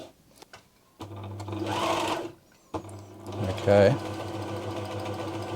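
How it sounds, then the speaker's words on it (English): A Singer 6268 domestic sewing machine under repair runs in two short bursts, a whirring motor hum that speeds up and stops as the foot controller is tapped, with a brief spoken word at the start. "the machine's running"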